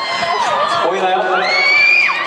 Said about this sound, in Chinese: 欢呼欢呼还不够啊！